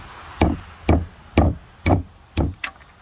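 Nut shells crack open in a series of five or six sharp, close knocks, evenly spaced about half a second apart and heard alone.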